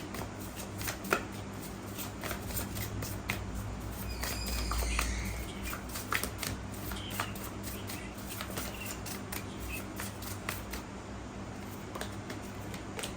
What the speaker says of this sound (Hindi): अच्छे से पहले शफल करते हैं।